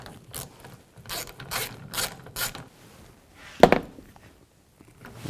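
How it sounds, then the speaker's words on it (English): A ratchet with a 7mm socket backs a liftgate bolt out of a 2000-2006 Chevy Tahoe, giving five quick close bursts of clicking followed by a single sharp metallic clunk. "I'm going to use a 7mm socket."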